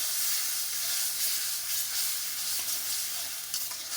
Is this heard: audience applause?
no